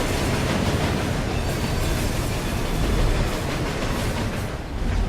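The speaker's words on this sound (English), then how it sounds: "Avoid the ghost train as best we can." Ghost train rushing past in the video game Murdered: Soul Suspect, a loud, continuous, roaring rumble that fills the whole stretch and fades slightly near the end.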